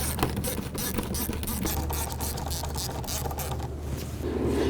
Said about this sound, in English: Using an 8mm socket, we're gonna go ahead and loosen this hose clamp here